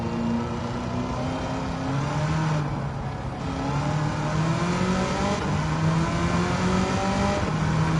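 A 1969 Corvette with a swapped engine revving hard and accelerating on Watkins Glen in Gran Turismo 7, a loud, steady engine note climbing through the gears in repeated rising sweeps, close and continuous with no talking.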